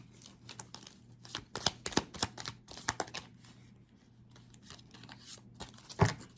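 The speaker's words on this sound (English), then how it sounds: "Let me shuffle these one more time." Tarot cards being shuffled by hand in a quiet room: bursts of crisp riffling and flicking taps come in quick irregular clusters, fairly close, with a sharper slap near the end and no talking.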